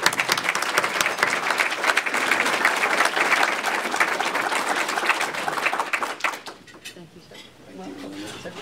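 A large meeting audience breaks into sustained, dense applause welcoming a speaker, loud and steady for about six seconds before fading into quieter room noise and murmuring.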